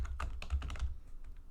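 Quick, close keystrokes on a computer keyboard as a short note is entered into payroll software, a brisk run of clicks that fades out within about a second.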